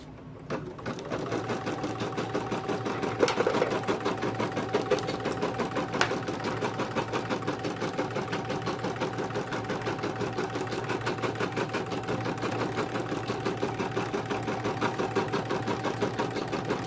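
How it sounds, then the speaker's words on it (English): Embroidery machine running a tack-down stitch, a steady fast mechanical whir and rapid rhythmic needle chatter that continues evenly throughout, close and unbroken with no voices. "you're going to put it back in the machine. And it's going to do a tack down stitch."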